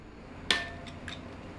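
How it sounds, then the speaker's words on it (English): A single sharp metallic snap as the throttle cable breaks on a 1999 Honda Z50R, close and bright with a brief ringing tail, then a couple of faint clinks. "Broke the throttle cable."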